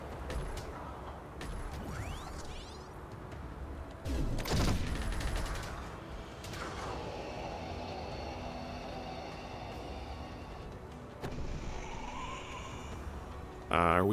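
A gun fires in the sci-fi video game Subterrain: Mines of Titan, heard as a few loud bursts of shots over a rumbling game background, with a voice speaking at times.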